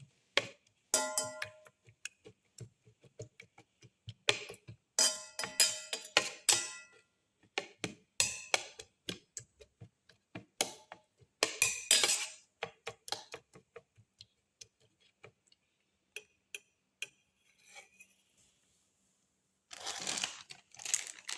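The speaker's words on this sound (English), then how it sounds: "Thoroughly mix and crush all the ingredients together." Black pepper and cilantro leaves being mixed and crushed together for an omelette, giving close, irregular bursts of crunching, crinkling and clinking, alone with brief pauses between strokes.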